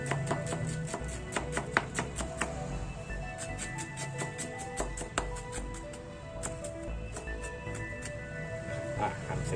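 Vegetables for pad thai sauce are chopped roughly on a cutting board, with a run of sharp knife taps that is dense at first and thins out later, heard close with no talk.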